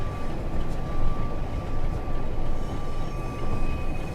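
Several trains in a railway simulation game rumble past together, a low, rolling mechanical drone with steady tonal hums and gentle swells in loudness, moderately close, with no one talking.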